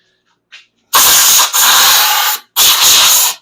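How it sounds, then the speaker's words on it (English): Compressed air blasts into the rusty frame of a 1970 Triumph TR6 in three loud, broadband bursts, each roughly half a second to a second long, preceded by a faint short hiss. "I've just been blowing the rust out of the frame as much as I can"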